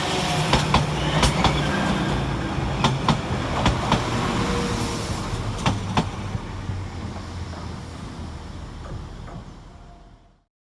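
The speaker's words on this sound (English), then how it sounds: "the final train of this session is 195104, arriving with the 1537 Northern service from Manchester Victoria to Leeds" A Northern class 195 diesel unit pulls into Halifax railway station, rumbling loudly nearby with rhythmic wheel clicks over rail joints and a steady drone that fades away toward the end.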